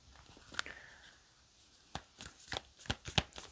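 A deck of advice cards for a card reading is shuffled close up: a brief riffle, then a run of sharp, irregular slaps and taps as the cards are handled, with no talking.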